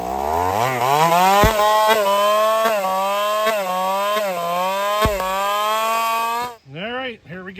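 A modified Husqvarna 450 race chainsaw fitted with a Partner 5000 top end revs hard and close up, a loud, steady high-pitched whine with slight rises and dips before it drops off sharply at the end.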